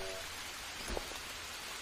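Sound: rain in the video game Green Hell

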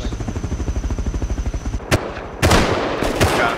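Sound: gunfire in the video game Rust

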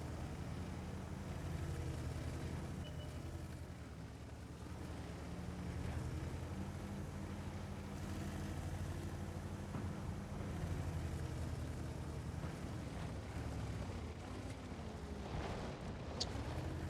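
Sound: BZ-75 tank driving in World of Tanks video game

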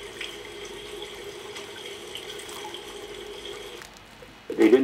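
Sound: water running from a tap

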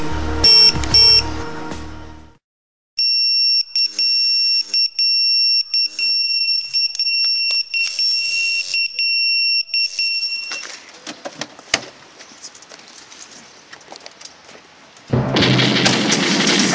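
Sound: pager alarm alerting the fire rescue train crew

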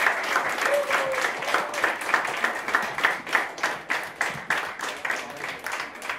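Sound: audience applause after a show

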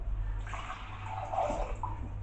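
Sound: water poured into a blender

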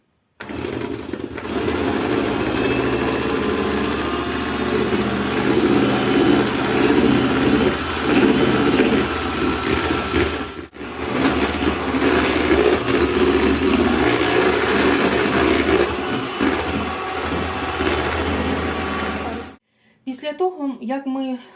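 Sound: mixer beating honey mass with eggs and sugar

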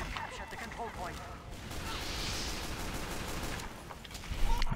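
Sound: gunfire in video game Team Fortress 2

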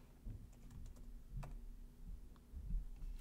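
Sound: typing on a computer keyboard

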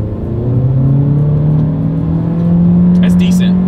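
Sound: 2024 Acura Integra accelerating in sport mode

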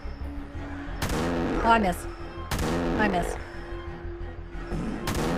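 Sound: shotgun firing in the indie horror video game Fart Killer

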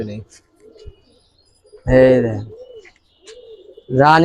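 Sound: pigeons cooing, Giribaz and coloured pigeons

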